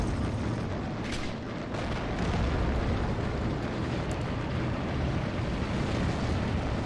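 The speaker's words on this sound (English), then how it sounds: "Autocannon firing like crazy." Rapid autocannon fire in the World War II strategy game Men of War: Assault Squad, set in Normandy near Caen in 1944, rumbles as a dense, continuous barrage of booms that holds loud and steady with no pauses.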